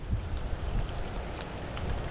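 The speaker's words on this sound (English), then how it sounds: "That wasn't a cue to rain. You weren't supposed to do this. It's not supposed to rain." Steady rain patters on the water and a boat during a thunderstorm fishing trip, a soft continuous hiss with faint scattered drops, heard alone with no talking.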